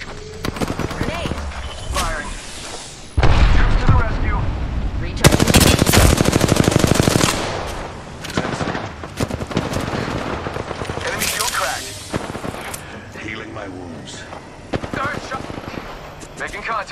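Heavy automatic gunfire in Apex Legends, long rattling bursts and scattered single shots crackling close and loud for most of the stretch, with voices talking over the fight.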